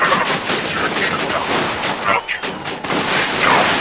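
Turret gunfire in a video game, a loud, dense barrage of rapid shots and booms that continues almost without pause, with a brief dip partway through.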